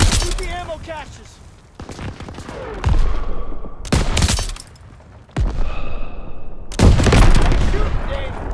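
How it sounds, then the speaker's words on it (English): Gunfire and explosions in the World War II shooter Call of Duty WW2 come in several loud bursts of rifle shots and booming blasts, broken by quieter gaps, under in-game radio voices giving orders. "Daniel, shoot the ammo caches around the pack 38."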